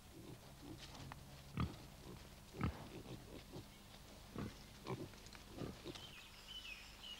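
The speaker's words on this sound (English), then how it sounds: "Pigs with their sensitive noses will still root on concrete, going through the motions of turning the soil." Pigs rooting on concrete, snuffling and grunting in short repeated bursts at close range, quiet overall with small scrapes between snorts.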